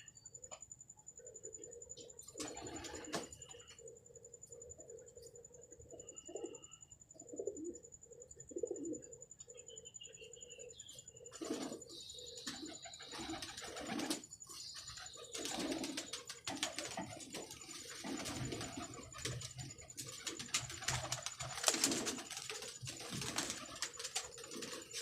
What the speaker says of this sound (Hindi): आज ये कबूतर पकड़ा है, पता नहीं किसका, 2 रंग लगे हुए। सलारा कबूतर है।